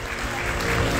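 Applause rises from the audience at a piano competition award ceremony as a performer is called to the stage, a brief, full burst of clapping with some voices mixed in.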